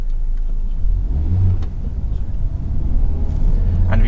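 A car pulling away on a driving test in a residential road after an emergency stop, a steady close engine rumble that gently rises as it accelerates, with road noise and no break.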